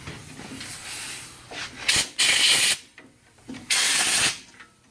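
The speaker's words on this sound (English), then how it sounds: "So we're going to blow some of the garbage out around there and remove it." Two loud hissing blasts of compressed air clear debris from around the blower housing of a Walker lawn mower, each burst lasting under a second, close by with a quieter mechanical hiss and faint rattling between them.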